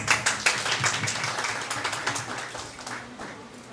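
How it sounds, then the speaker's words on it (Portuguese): A small audience at a Brazilian book event gives a round of applause, distinct individual claps close by that start brisk and thin out over a few seconds. "Palmas."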